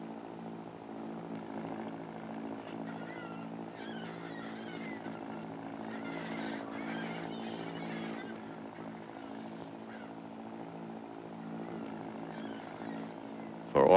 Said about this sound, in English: The throaty rumble of the exhaust is the music that he knows